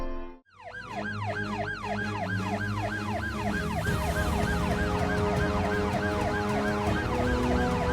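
A loud ambulance siren wails continuously, its rising and falling tone repeating rapidly and steadily over traffic rumble.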